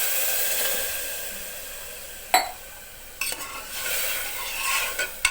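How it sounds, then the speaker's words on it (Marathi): Water poured into roasted rice in a pan for rice kheer, a rushing splash and hiss with sharp clanks of utensils against the pan, fairly close with no talking. "याच्यामध्ये आता पाणी टाकून घेऊया."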